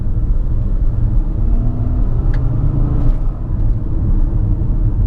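A 2019 Infiniti QX50 accelerating gently in normal drive mode, heard from inside the cabin as a steady, loud low engine rumble with road noise and no talking.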